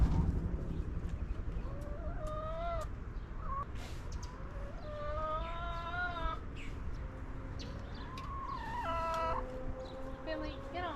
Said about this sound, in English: All of my chickens are very concerned about what I'm doing right now. They're all on their little perch right behind the camera.